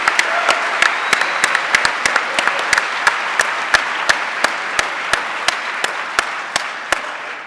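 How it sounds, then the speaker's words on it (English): A debate audience gives a big round of applause for the debaters, a dense wash of many hands with sharp individual claps popping through, loud and sustained before easing slightly toward the end. "One more big round of applause, please, for Melanie, Jim, Rob, and David."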